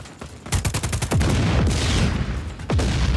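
Rapid bursts of assault rifle fire in the video game Just Cause 4, loud and close, with several stuttering volleys and a final burst, no speech.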